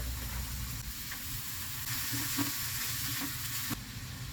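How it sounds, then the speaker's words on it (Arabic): Onion and freekeh fry in a pan with a steady close sizzle, broken by occasional soft stirring knocks. "وفي نفس الطاسه بحط بصلايه صغيره بشوحها، وبنزل بكميه الفريك"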